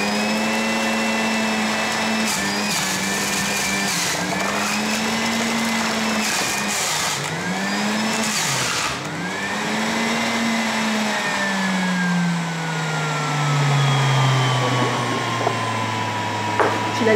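Electric blender or juicer whirring loudly while making vitamin juice, a steady motor drone that dips and surges in pitch, then winds down toward the end.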